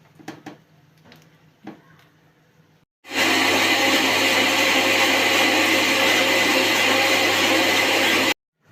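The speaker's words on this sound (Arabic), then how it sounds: "هغطي الغطا بتاع الخلاط وهنزل بسرسوب الزيت، سرسوب صغير والخلاط" A kitchen blender with its lid on runs while oil is drizzled in a small stream to make a creamy mixture: a few soft taps and rustles first, then a sudden loud, steady whirring roar that holds for about five seconds before cutting off.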